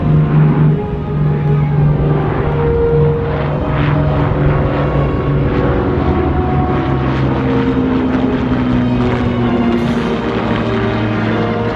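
A B-29 Superfortress and an Avro Lancaster pass overhead together at an airshow, their piston propeller engines making a loud, sustained droning roar with shifting tones throughout.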